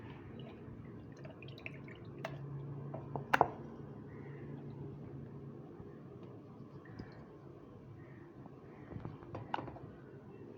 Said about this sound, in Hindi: इस तरह इसको हल्का हल्का प्रेस कर देंगे ताकि जो पानी इसके अंदर है वो निकल जाए